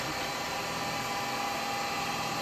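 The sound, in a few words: drilling a small hole into a wooden goblet on lathe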